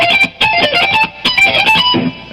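Fast electric guitar lick repeated and harmonized up and down the scale, bright and loud with quick articulated notes in busy bursts and a brief gap before a final lower phrase.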